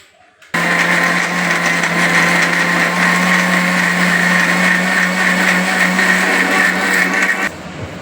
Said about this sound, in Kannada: ಇಷ್ಟನ್ನು ಹಾಕ್ಕೊಂಡು ರುಬ್ಕೊಳ್ಳೋಣ